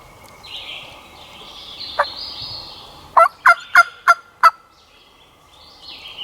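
Wild turkey gobbling outdoors in Alabama, one brief call followed by a rapid burst of four or five sharp gobbles, fairly close and loud over quiet, steady background birdsong.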